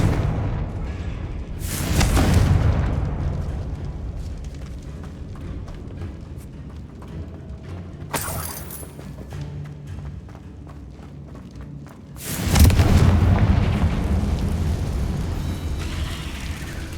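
In Hogwarts Legacy, a Confringo fire spell blasts with heavy booming explosions, two big bursts and a sharp smaller one, each followed by a rumbling decay over a steady game ambience.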